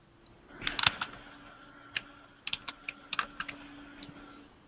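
Quiet, irregular keystrokes on a computer keyboard: a few scattered clicks, then a quicker cluster of taps over a faint steady background hum.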